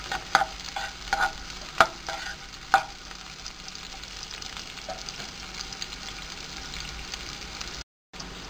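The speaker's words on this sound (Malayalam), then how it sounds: "എണ്ണ ചൂടായി കഴിയുമ്പോൾ അതിലേക്ക് നമ്മൾ കട്ട് ചെയ്ത് വെച്ചിട്ടുള്ള ഉള്ളി ഇട്ട് കൊടുക്കാം" Chopped onion dropped into hot oil for noodles, starting with a few sharp spattering pops and then settling into a steady, even sizzle that continues close by without any talking.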